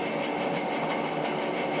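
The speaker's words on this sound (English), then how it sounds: "we're going to pop the bandsaw on" Bandsaw fitted with a 1/4 inch blade running steadily at close range, a continuous even mechanical whir with a bright, buzzing upper edge and no breaks.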